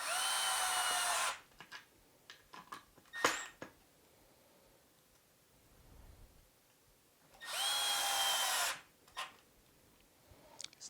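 A power drill drives screws into wood while fitting dog leash hooks, with two loud sustained whirring bursts near the start and later, separated by quieter clicks and handling taps.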